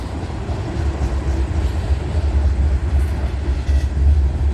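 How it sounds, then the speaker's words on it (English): Freight train of tank cars with a BNSF distributed power unit rolling through, heavy continuous low rumble of wheels on rail, close and loud, with faint rhythmic clatter and no speech. "There's the DPU, there's the BNSF DPU coming up as it's rolling through."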